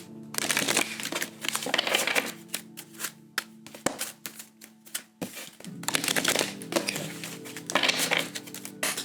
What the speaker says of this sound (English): Do 3 shuffles.